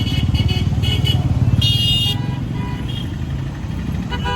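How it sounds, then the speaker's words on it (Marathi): Road traffic of cars and motorcycles rumbles close by, with steady engine drone and a short horn toot partway through. "परत ट्रॅफिक लागली आम्हाला"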